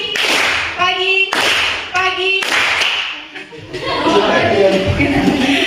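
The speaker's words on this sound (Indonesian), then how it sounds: "Jadi kalau Ibu bilang pagi, kita tepuk 1 kali." Schoolchildren in a classroom clapping game strike short, sharp claps in unison between a teacher's spoken prompts, followed by a stretch of busy classroom chatter and noise.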